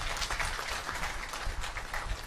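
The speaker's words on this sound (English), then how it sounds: "Give him another round of applause." An audience at a graduation ceremony applauds the valedictorian, dense continuous clapping from a crowd that stays even and full for a couple of seconds.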